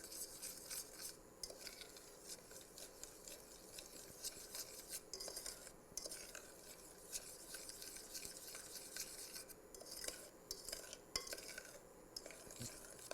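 A spoon stirs a passion fruit and coconut marshmallow mixture in a pot, giving a steady, close scraping and clinking that runs continuously without talk.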